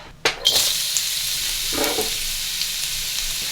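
Carrots drop into a couple of teaspoons of hot oil in a wok skillet, giving a sharp burst of sizzle and a second crackle while stirred, then settling into a steady frying hiss.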